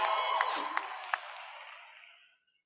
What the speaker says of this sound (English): It's okay to cheer.